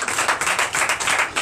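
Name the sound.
congregation clapping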